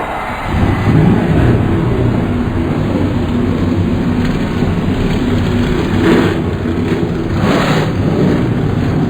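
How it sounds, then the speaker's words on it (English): NASCAR stock car engines fire up on the grid at Daytona for the 2015 Sprint Unlimited: a dense, continuous rumble of many engines with louder revving swells near the end, heard with no talk. "Drivers, start your engines!"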